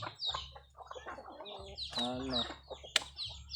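Chickens cluck and squawk close by, a mix of short clucks and a longer drawn-out call, with a sharp chirp near the end.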